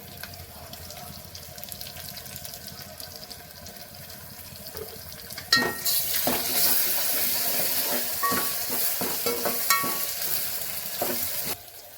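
Garlic paste hits onion and turmeric frying in a pan, the quiet sizzle jumping to a loud, bright hiss partway through, then continuing with repeated spatula scrapes and clacks, close up and without speech.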